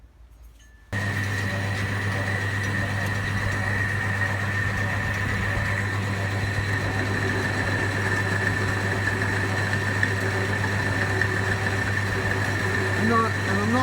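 A lathe cutting a long extrusion screw shaft runs with a steady motor hum and a constant tonal whine that holds unbroken for over ten seconds. Faint scraping of the cut sits underneath.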